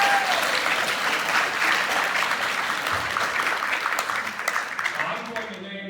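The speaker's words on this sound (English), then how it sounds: "give them a big round of applause" An audience applauds the finalists at a Chamber of Commerce National Civics Bee, a loud, continuous round of clapping from a full room that gradually tapers off over about six seconds.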